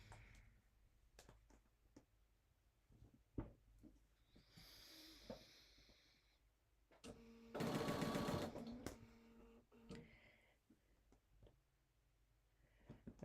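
Home sewing machine stitching a Halloween quilt block, a short loud whirring burst in the middle of the clip, surrounded by quiet fabric handling, clicks and soft rustles.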